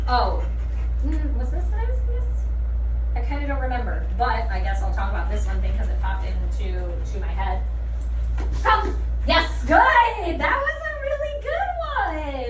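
A dog whines and yips in high, wavering cries, breaking into a few sharp barks toward the end over a steady low hum.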